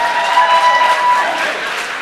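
Scattered audience clapping at a stand-up comedy show, a brief loud burst of claps with some crowd noise and a few whistle-like tones, sustained for about two seconds.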